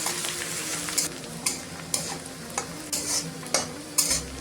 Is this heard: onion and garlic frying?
yes